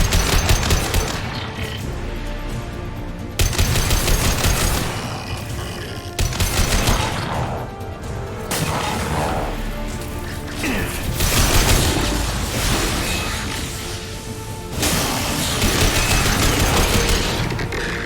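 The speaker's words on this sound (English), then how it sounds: "Taking heavy fire! Hostile with heavy weapons." Heavy gunfire in a Mass Effect 2 battle: dense bursts of automatic weapons, booms and mechanical clatter layered over a loud continuous combat din that cuts in and out in sections.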